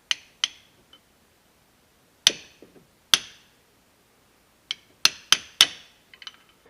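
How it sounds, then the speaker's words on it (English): Metal extension tapped against a CV boot clamp to flatten it: sharp, ringing metallic taps in small bursts, two early, then two spaced single hits, then a quick cluster of three or four near the end, close and fairly loud. "I'm just going to take my little 3/8 extension and just put it on there and give it a couple taps and flatten it out"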